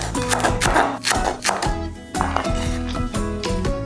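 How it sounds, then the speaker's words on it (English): A knife slices through green onions on a cutting board with quick, close, crisp chops in uneven bursts, loud and clear with no talk. "Let's cut off the roots, and then we'll just slice these green onions"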